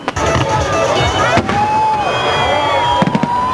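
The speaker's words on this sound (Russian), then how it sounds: "А вот долгожданный салют не оставил равнодушным никого." Celebration fireworks at a city anniversary salute crackle and boom in rapid bursts, with sharp pops and whistling trails over a murmuring crowd, loud and continuous.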